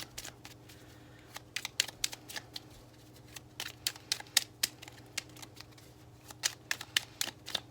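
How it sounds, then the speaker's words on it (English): Irregular crisp flicks and snaps of a hard-to-shuffle tarot deck being shuffled by hand, close and fairly quiet, over a faint steady hum. "This deck is so hard to shuffle."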